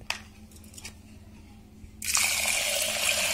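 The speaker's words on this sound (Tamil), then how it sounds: "தேவையான அளவு தண்ணி விடுறேன்." Water is poured into half a cup of washed moong dal seasoned with asafoetida and turmeric for kootu. After a quiet start, a loud, steady, close rushing pour begins about two-thirds of the way in and runs to the end.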